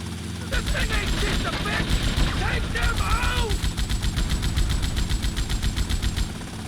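Full-auto gunfire in GTA Vice City rattles in rapid, evenly spaced bursts almost without pause, with game effects mixed in and a voice talking over it.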